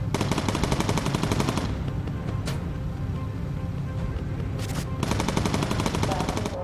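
Rapid machine gun bursts in the World War II bomber game Bomber Crew, loud continuous rattling fire that drops to a lull mid-way and then resumes, with occasional sharper blasts over a droning engine bed.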